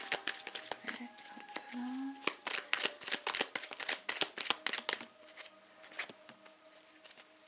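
Tarot cards being shuffled in rapid, crisp riffling bursts that run nearly the whole time, with a faint steady tone humming underneath.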